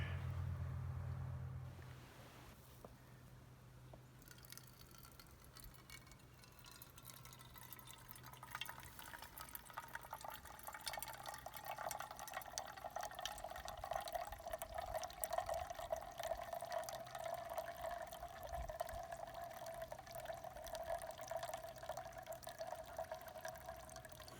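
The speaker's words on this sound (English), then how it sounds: "I'm going to filter that forage water that I got here" Forage water trickles and drips steadily through a Sawyer Mini water filter on a hike, a faint continuous thin stream with soft dripping that keeps going for over twenty seconds, no voices.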